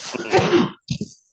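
One person sneezes close up, a loud, forceful burst followed by a short breathy catch, in an otherwise quiet room.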